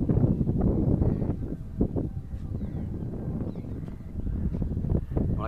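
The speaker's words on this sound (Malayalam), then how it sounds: "നല്ല കാറ്റുണ്ട്" Strong gusty wind buffets the microphone high on a viaduct bridge under construction on the NH66 at Vattapara in Kerala, a loud, close, low rumbling roar that pulses irregularly throughout with no talk.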